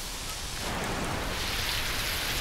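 Cartoon-style hail or rain sound effect, a steady dense patter of falling drops that stays loud and even throughout with no voices.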